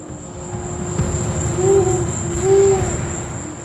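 An owl hoots in the Amazon night, two soft, low calls spaced about a second apart, set against a steady high whine of crickets and insects.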